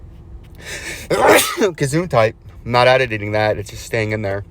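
A single sharp, loud sneeze bursts out, followed by a person talking at close range.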